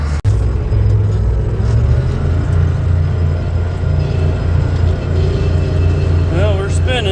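A tractor pulling a spreader sits stuck in a hay field, its engine holding a loud, steady low rumble while the wheels spin, with a brief jolt near the start and a faint rising whine toward the end.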